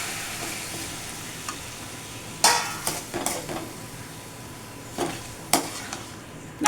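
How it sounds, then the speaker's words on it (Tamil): Tomatoes sautéing with garlic in a pan, a soft steady sizzle under a few sharp scrapes and clinks of a spoon stirring against the pan. "போட்டு நல்லா வதக்கலாம்."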